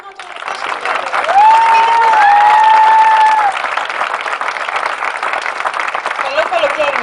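A theatre audience at a Marivaux comedy bursts into loud, sustained applause. Dense clapping fills the room while a voice and a whistle rise over it.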